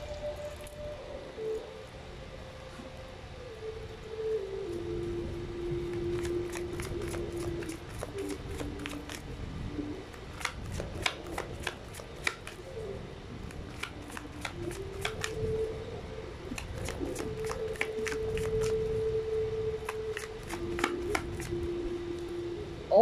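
Tarot cards shuffled by hand in a steady run of crisp riffling and flicking bursts, close and fairly quiet, with a faint tone humming beneath and no talking.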